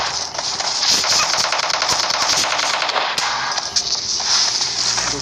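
Gunfire in the mobile shooter game PUBG Mobile Lite rattles in loud, rapid automatic bursts with sharp single cracks, continuous and close, with no talk over it.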